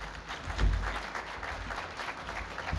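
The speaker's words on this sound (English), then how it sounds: "So give him a round of applause." A modest round of applause breaks out from the audience at a small business awards event, fairly quiet and diffuse, with a brief low thump near the start and scattered clapping holding steady throughout.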